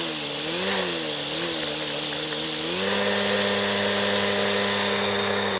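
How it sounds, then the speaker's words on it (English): A brushless string trimmer whines at steady high speed, its motor pitch wavering twice as the trigger is feathered, then rising and holding a loud, constant drone close by. "I really like this brushless string trimmer."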